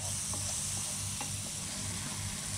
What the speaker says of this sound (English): And also to get the spices fried up a little bit here